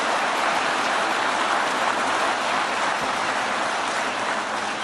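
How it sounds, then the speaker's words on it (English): A large political rally crowd applauds the U.S. Secretary of Labor in Howell, Michigan, giving a dense, steady wash of clapping that stays loud and unbroken throughout. "Let's get a round of applause for the great Secretary of Labor."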